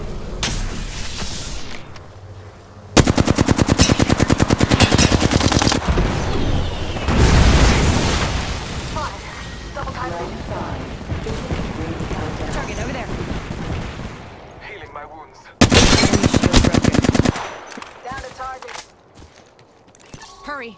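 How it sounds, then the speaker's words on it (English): In Apex Legends, Wraith trades fire on the Broken Moon map: loud bursts of rapid automatic gunfire and booming impacts come in two heavy waves, separated by quieter stretches with scattered shots and in-game character voices. "I'm taking shots."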